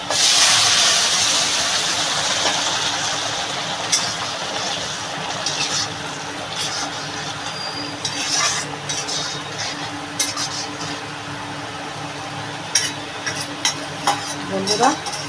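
Shrimp and jute leaf curry is poured back into hot, darkened garlic oil and stirred. A loud, hissing sizzle opens the clip, then settles under repeated spoon scrapes and clinks against the pan.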